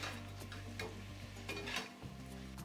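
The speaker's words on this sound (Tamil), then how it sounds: "இப்போ அப்படியே பொறுமையாக கலந்து விட்டுருணும்" Noodles with coriander stirred in a pan, a soft continuous sizzle under a low steady hum with a few light scraping strokes, fairly quiet and close.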